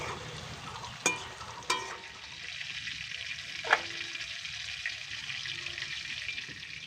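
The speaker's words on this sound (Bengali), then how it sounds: "বরবটিগুলোও খুব সুন্দরভাবে ভাজা হয়ে গেল" Yardlong beans fry in hot oil with a lightly salted, gentle, continuous sizzle, punctuated by a few sharp clinks of a utensil against the pan.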